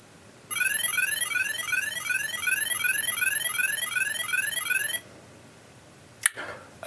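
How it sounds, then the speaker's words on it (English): Alarm of a Grandstand Scramble handheld electronic game: a loud, shrill electronic warble of rapidly repeating rising chirps sounding continuously for about four and a half seconds, then cutting off, followed by a brief click. "we're 15 seconds away from hearing the alarm"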